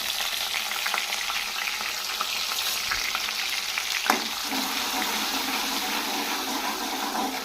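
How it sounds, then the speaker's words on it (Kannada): Ginger garlic paste frying in oil and butter in a pan, a continuous bright sizzle with occasional stirring scrapes, steady and close. "ಇವಾಗ ಶುಂಠಿ ಬೆಳ್ಳುಳ್ಳಿ ಪೇಸ್ಟ್ ಹಾಕ್ತಾಯಿದ್ದೀನಿ"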